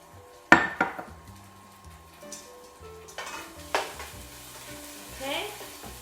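Oil sizzles in a pan of shrimp for shrimp saganaki. A sharp metallic clank of a utensil on the pan opens it, then a soft steady fry continues with light scraping and a faint low musical hum.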